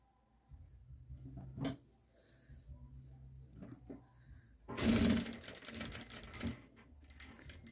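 Sewing machine stitching a seam on children's high-waisted elastic shorts, with a short loud run in the middle amid handling noises of fabric being folded and positioned, and no talk.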